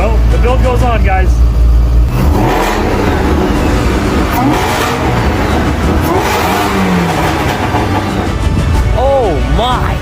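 A rebuilt, previously destroyed 1,000-horsepower Shelby GT350 V8 runs loud and close, revving up and dropping back several times, with people talking and exclaiming over the engine noise.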